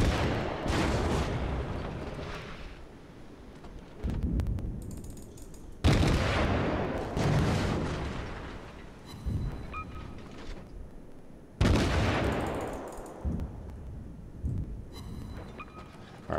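Naval gunfire from the World of Warships video game: three heavy booming salvos spaced several seconds apart, each decaying into a long rumble with smaller impacts and mechanical clatter between.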